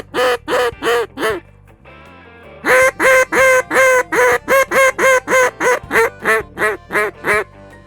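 Duck call blown in a rapid series of quacks, some soft and some loud, near and clear with short pauses between groups, no talk.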